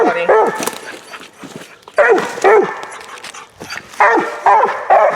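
A hound dog on a track bays and barks repeatedly in loud, urgent bursts at close range. Brief yips come between the bays, and a voice speaks now and then underneath.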